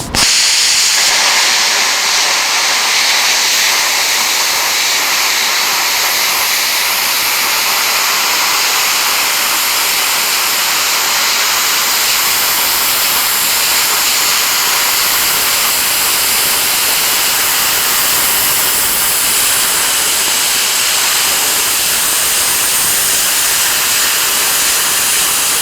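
An AHP AlphaCut 60 plasma cutter runs at 40 amps through half-inch metal, a loud, continuous rushing hiss with a roaring edge that holds steady for the whole cut.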